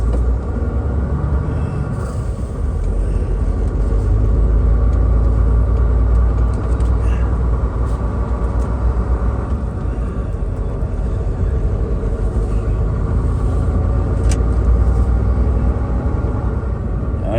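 Vehicle engine pulled into gear and driving away from a safe roadside stop beside a lake near Reno, Nevada: a steady, loud low rumble running throughout with no break or change in pace.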